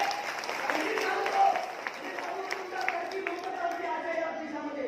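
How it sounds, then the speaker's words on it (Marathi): A crowd at a farmers' political rally in Delhi breaking into strong applause, a dense, steady wash of clapping that holds for several seconds, with voices mixed in. "जोरदार टाळ्या त्यांच्यासाठी वाजल्या पाहिजे"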